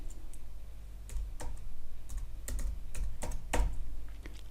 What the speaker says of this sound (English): I'm going to put a return in, and then I'll type